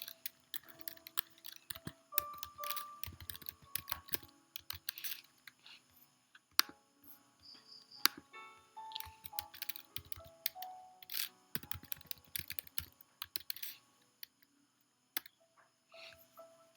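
Quiet, close typing on a computer keyboard, with irregular bursts of light key clicks separated by short pauses.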